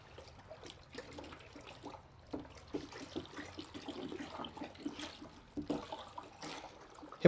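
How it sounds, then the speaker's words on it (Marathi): A hot fertilizer mixture, being made with lignite powder and potassium hydroxide, boils and foams in a bucket, giving a steady, close gurgling and bubbling with irregular liquid bursts at moderate loudness. "आता हे एकदम गरम तुम्ही जर इथं आला कॅमेऱ्यात बघू शकता तुम्ही एकदम खळखळ खळखळ उकळते"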